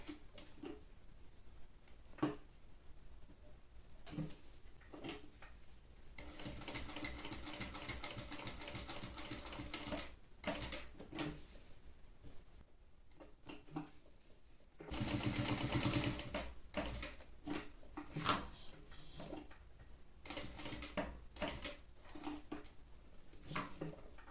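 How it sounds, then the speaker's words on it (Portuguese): A sewing machine stitches a label onto a trapezoid fabric pouch, running in steady rapid bursts of several seconds with short pauses between them, close and clear with no talking. "Vou costurar a minha etiqueta."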